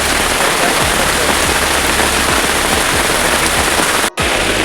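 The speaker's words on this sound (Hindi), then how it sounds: "देखिए पूरा इतना तेज बारिश हो रहा है" Heavy rain pours down over flooded ground where a vehicle stands half submerged, a dense, loud, continuous hiss that fills the whole stretch, with a momentary dropout near the end.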